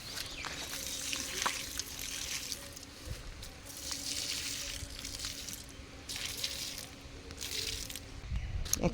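Water is poured onto dried-out garden plants in soft, uneven trickles and splashes that come and go, with outdoor background noise throughout.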